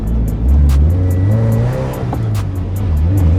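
A modified Toyota FRS accelerating hard, its engine note climbing loud and close with a strained, rising drone and a brief dip mid-pull, no voices over it.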